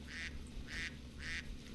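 Ducks in the game Wildlife Park 2 quack in three evenly spaced bursts, moderately loud over a steady low hum of game ambience, with no talking.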